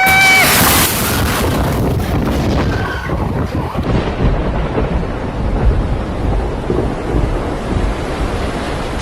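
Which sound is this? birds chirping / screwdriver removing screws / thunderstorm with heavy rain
thunderstorm with heavy rain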